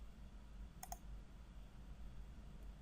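Two quick, faint computer mouse clicks in close succession on a Create Video button, set against a quiet room hum.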